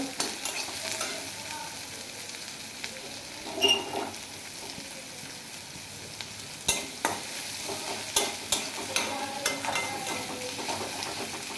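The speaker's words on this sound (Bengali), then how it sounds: "পেঁয়াজ কুচিটা ভালো করে লাল লাল করে ভেজে নেব।" Chopped onions frying in a pan for a Bengali mustard katla fish and potato curry, with a steady soft sizzle and intermittent scraping stirs and light utensil knocks throughout.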